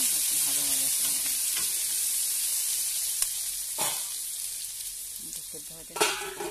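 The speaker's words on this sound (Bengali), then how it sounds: "ভালো করে নাড়াচাড়া করে একটু ভাজা ভাজা করে নেব।" Potatoes sizzle steadily in spiced oil while a utensil stirs them, with a few sharp clicks and scrapes against the pan standing out over the frying.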